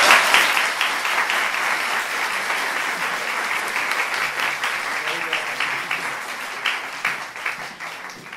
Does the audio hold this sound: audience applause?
yes